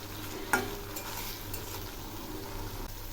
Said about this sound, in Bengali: এই মশলাগুলো খুব ভালো করে কষিয়ে নেব।